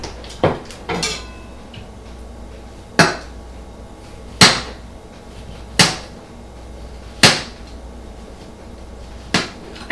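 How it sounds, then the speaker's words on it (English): Knife strikes a cutting board in a steady series of sharp, close taps, about eight cuts spaced roughly a second apart, while fresh strawberries are sliced for a vegan strawberry shortcake. "the rest of them I am going to just slice up"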